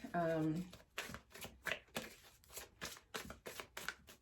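Tarot cards are shuffled in a run of quick, crisp riffling bursts at close range, with a brief hum of voice at the start.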